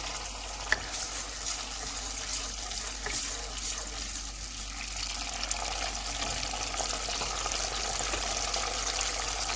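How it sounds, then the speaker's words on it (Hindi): Water hits a hot pan of honey chilli chicken, giving a steady, dense sizzle and bubbling that runs unbroken and fairly loud throughout, with no talking. "अब मैं इसमें तकरीबन 2 चम्मच पानी डाल रही हूँ।"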